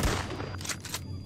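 A shotgun fires in the video game Poop Killer 5, giving a single close, heavy blast at the start followed by a short, fading rumble.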